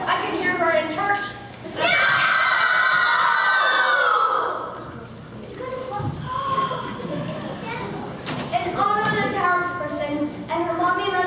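A loud, shrill scream rises during a staged amateur play performance and holds for a couple of seconds. Actors speak before and after it.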